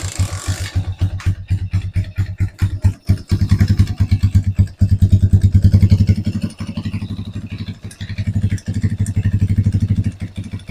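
A 110cc underbone motorcycle engine, such as a Euro, XRM, Rusi or Motorstar 110, sputters and catches, then idles close by with an uneven, pulsing putter that rises and dips in loudness.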